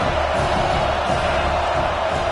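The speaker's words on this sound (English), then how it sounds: "And the crowd coming to life here, trying to help this defense down in the red zone." A football stadium crowd roars steadily, backing the defense in the red zone: a broad, continuous wash of cheering and shouting with no clear breaks.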